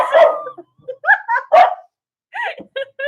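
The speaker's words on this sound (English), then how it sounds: "No, Kaylee, I don't know if she's barking at dogs or me singing" A dog barks and yips in short, close bursts, several quick barks separated by brief pauses, with a person's voice mixed in among them.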